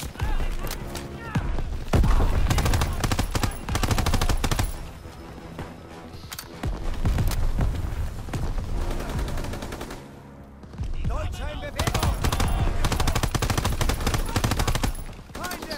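Gunfire in Call of Duty WW2 during the Operation Cobra campaign mission, with loud, close bursts of rapid automatic fire and single shots alternating with short, quieter lulls over a dense battle backdrop.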